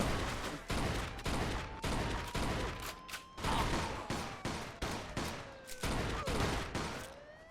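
Rapid bursts of rifle gunfire in the video game Mafia 2, a dense series of sharp cracks in uneven clusters across the whole stretch, loud and close, with a faint whine rising between shots.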